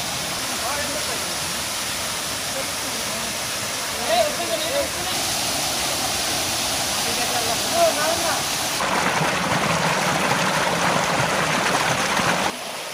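Small first cascade of Khoiyachora waterfall in Mirsarai, a steady broadband rush of falling water that swells louder toward the end, with voices talking over it.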